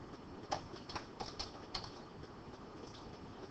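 Keys on a computer keyboard are tapped during data entry in an office program, a few faint, scattered clicks against a steady background hiss.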